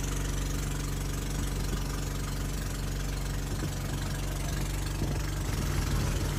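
A bangka boat engine runs steadily and loudly throughout at the Hundred Islands, Philippines, a constant throbbing drone with rattling vibration and no voices.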